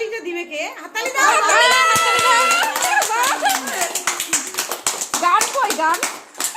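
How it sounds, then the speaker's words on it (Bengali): Guests at a birthday party clap in quick, uneven bursts that run alongside loud, overlapping chatter and children's voices nearby. "হাততালি দাও।"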